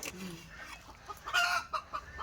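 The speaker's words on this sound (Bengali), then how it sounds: "মুরগি" A chicken gives a few short clucks over a quiet rural background, brief and moderately close.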